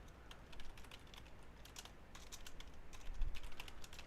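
Quick, irregular clatter of keys on a computer keyboard, close and fairly quiet, with bursts of tapping that pick up toward the end.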